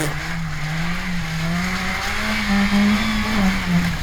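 BMW engine started after a year sitting unused, running with a steady, slightly wavering drone at a moderately loud level, heard alone without talking.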